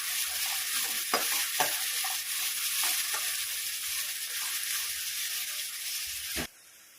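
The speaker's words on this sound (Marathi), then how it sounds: "व्यवस्थित परतून घ्या." Finely chopped onions sautéing with cumin seeds in a pan for chole, giving a loud, steady sizzle with occasional stirring scrapes that stops abruptly near the end.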